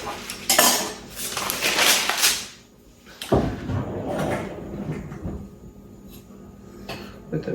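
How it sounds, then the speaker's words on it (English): Metal cutlery clattering and jangling in a kitchen drawer as someone rummages for a knife to cut freshly baked bread, loud rattling bursts, then a sharp clack and lighter scraping and clinks, no talk. "Trying to find the right size knife."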